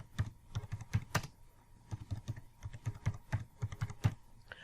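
JavaScript code being typed on a computer keyboard, a steady run of soft, quick key clicks in short irregular bursts, close and fairly quiet with no talking.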